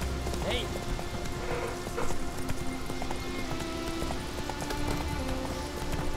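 Horse hooves galloping in The Witcher 3: Wild Hunt, a steady clip-clop buried in a dense, constant game soundscape, with faint voices mixed in.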